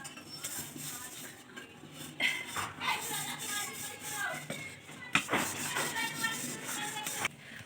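Two metal woks being handled in a home kitchen, with scraping, rubbing and clanking of the pans at close range in irregular bursts, under a person speaking.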